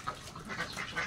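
A Pekin duck drake in a breeding flock by its pen gives a raspy, continuous quacking call, fairly close and moderately loud, with no talking over it.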